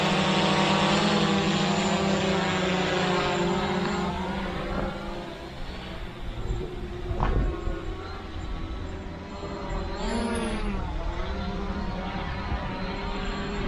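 A 4DRC M1 Pro mini drone hovering and flying nearby, its propellers giving a steady, fairly loud whining buzz that wavers in pitch as it maneuvers, with no talk.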